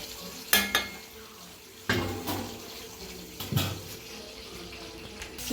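Chicken curry being stirred and mixed in a pot, with intermittent scraping and metallic clinks of a spoon against the pot over a low kitchen background, no talking.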